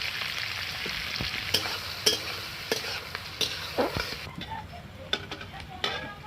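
Onion and whole black peppercorns fry in a pan with a continuous soft sizzle, broken by sharp ticks and scrapes from stirring against the metal.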